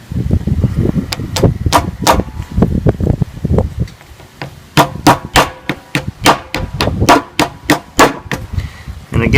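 A replacement sight is hammered onto a Smith & Wesson M&P Shield pistol with a block, giving sharp close metallic taps. They start irregular, then come in a steadier run of strikes over light handling noise.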